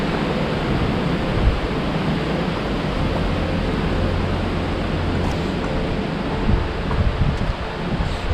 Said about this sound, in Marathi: वारा आहे, या प्रचंड वारा आहे.